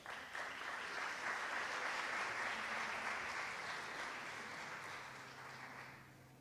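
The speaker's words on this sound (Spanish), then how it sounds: "Vamos a recibirla con un fuerte aplauso, por favor" Faint, distant applause from an audience at a world forum on low-carbon cities, a steady wash of clapping that gradually tapers off toward the end.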